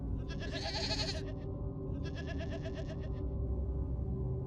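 Goats making a commotion, two loud bleating calls close by, the first longer and wavering, the second a stuttering bleat, over a steady low background hum.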